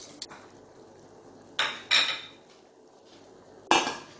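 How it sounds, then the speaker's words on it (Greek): A spoon stirring butter in a pot until it melts for a dairy-free cream, heard as a few sharp metallic scrapes and clinks against the pot over quiet room tone. "Ανακατεύουμε μέχρι να λιώσει το βούτυρο."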